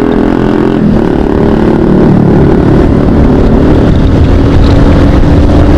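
A motorcycle engine drones loudly and steadily while riding, with a continuous low rumble, slight rises in revs and wind buffeting the microphone.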